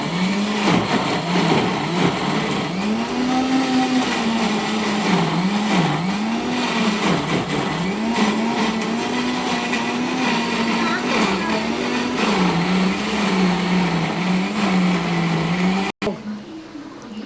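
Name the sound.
mixie blender grinding chicken curry paste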